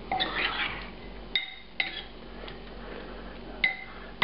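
A utensil stirring braised spicy Balinese pork in a pot, a few scattered metallic clinks and scrapes against the pot's side at close range, quiet between strikes, no speech.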